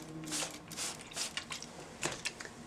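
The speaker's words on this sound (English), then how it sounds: "we're going to spray with our distilled water" A spray bottle of distilled water mists onto fabric in a few short close hissing bursts, with small handling noises in between.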